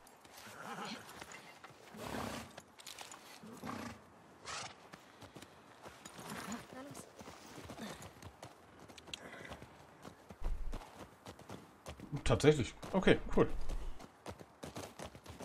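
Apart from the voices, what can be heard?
horses galloping in video game The Last of Us Part 2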